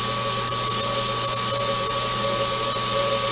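A metal lathe facing off a washer, a steady machine whine with faint scraping cutter noise running continuously and fairly loud, no talk.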